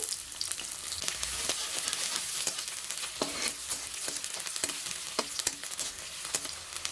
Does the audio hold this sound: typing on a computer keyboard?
no